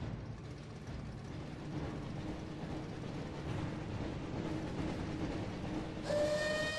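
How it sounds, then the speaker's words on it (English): A train in the PS1 game Harry Potter and the Chamber of Secrets rumbles steadily and continuously, and a tonal whistle sounds near the end, with no talking. "Looks like we found the train, Ron."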